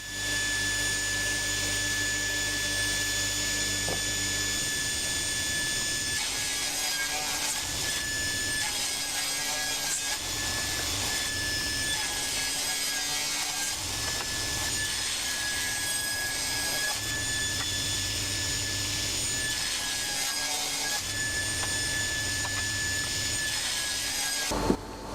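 A power saw cuts glued-up timber strips for an end grain cutting board, giving a loud, continuous high whine that dips and surges as the blade bites into the wood.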